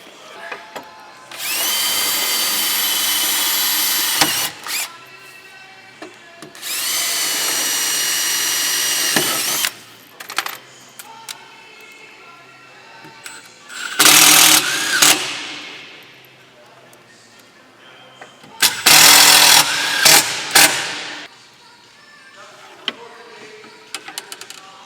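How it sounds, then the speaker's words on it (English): A power drill whines loudly in several bursts, two long runs then shorter spurts, with pauses and faint handling noise between. "I need to pre-drill some holes."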